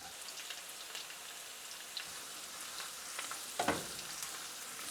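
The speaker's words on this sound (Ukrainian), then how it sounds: "Кидаємо цибулю, вона в нас смажиться до прозорості" Gentle sizzling of onion frying in a pan, a soft steady crackle with a brief louder sputter near the end, quiet and close.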